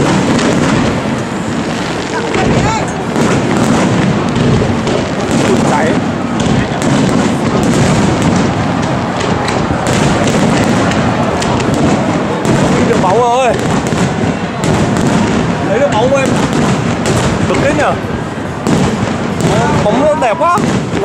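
New Year's Eve 2018 fireworks over Hanoi, heard from a high vantage point as a loud, continuous barrage of overlapping bangs and crackles, with people talking nearby throughout.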